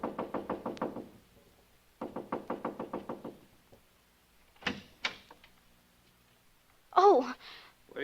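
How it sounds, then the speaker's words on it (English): Two fast bursts of repeated knocking on a door, about eight knocks each, loud and close, followed by a few thumps and a brief vocal sound near the end. "So I just kept knocking and knocking."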